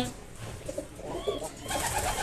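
Pigeons in a breeder loft coo softly in short overlapping bursts, fairly distant and muffled, with some background noise around them.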